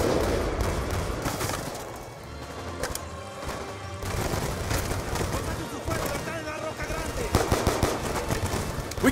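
Sustained automatic gunfire and scattered explosive crashes from a Call of Duty Black Ops 2 campaign battle, dense and loud throughout with bursts building toward the end, voices shouting orders underneath.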